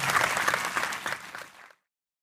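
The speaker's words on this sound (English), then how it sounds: "So let's give them a round of applause." Audience applause for non-commissioned officers at a military medical brigade induction ceremony, a dense, loud round of clapping that carries for about a second and a half, then stops abruptly.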